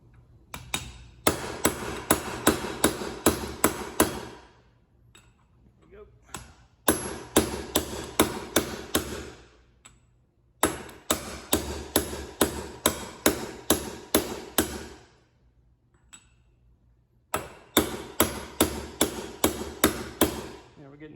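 A metal socket is hammered repeatedly against a bearing inner race to drive it onto a Roots blower shaft, with sharp, close metallic strikes in four rapid bursts separated by short pauses.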